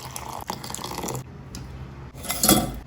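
Water is poured into a mixer jar holding ground coconut in a home kitchen, a close splashing and trickling with clinks of glass and utensils, louder near the end, no voices.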